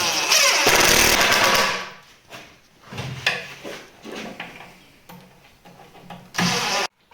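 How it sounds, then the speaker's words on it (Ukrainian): An impact wrench fastens a gearbox: a loud whirring burst at the start, followed by a series of shorter rattling hammering bursts and clunks, ending with one more sharp burst, close by with no talking. "тепер за допомогою гайковерта скоренько поставимо"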